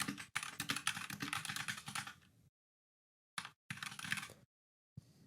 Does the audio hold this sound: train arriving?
no